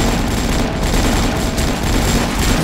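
Rapid, loud bursts of automatic gunfire and explosions from the online shooter game Avatar Star fill the whole stretch without a break, with no voices.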